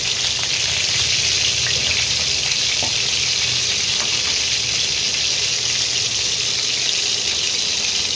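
Potato pieces frying in a small amount of hot oil, with a loud, steady, unbroken sizzle and a few faint pops and clinks underneath.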